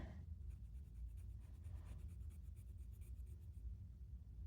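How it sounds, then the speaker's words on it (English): A Benu fountain pen, a very wet writer, glides over paper in faint, soft scratching strokes, close and quiet over a low background hum, with no talk. "I do have to watch the paper that I write with this on because it is a really wet writer."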